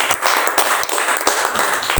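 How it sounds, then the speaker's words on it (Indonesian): Church congregation clapping together, a dense, steady patter of many hands sustained for about two seconds without speech. "Kita beri tepuk tangan lagi buat Tuhan."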